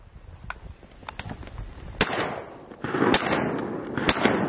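Gunshots ring out during a hunt: three or four sharp, loud cracks spaced a second or so apart, with lighter pops and outdoor rustling between them.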